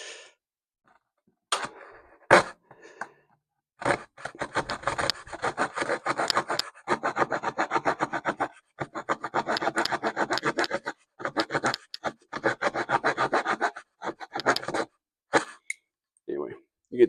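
Bibury 19-in-1 multitool's small saw cutting through wood, a close, steady run of rasping back-and-forth strokes in bursts with brief pauses, some sharp knocks at the start and end.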